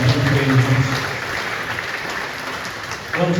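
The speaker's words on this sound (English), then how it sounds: "Give her another big round of applause, ladies and gentlemen." Sustained audience applause at a live event, a dense steady clatter of many hands, with a voice briefly heard at the start and again at the end.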